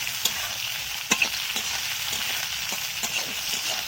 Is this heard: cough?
no